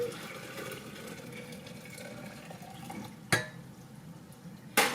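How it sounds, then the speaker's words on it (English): Water is poured into a glass kombucha jar holding tea, a soft steady trickling wash throughout with two sharp glassy knocks near the end, fairly faint and without talk. "I'm just going to pour the water in"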